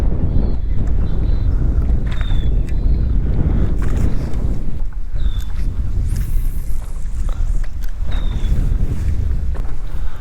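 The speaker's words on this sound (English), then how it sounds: "I'm pretty over the wind, to be honest." Strong wind roars steadily across a bass fishing boat on open water, a loud, continuous low buffeting rumble that lasts throughout, with a few faint thin whistles above it.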